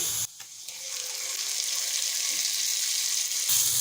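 Marinated chicken drops into lightly browned frying onions in a pan, setting off a steady, bright sizzle that holds loud and close after a brief quiet start.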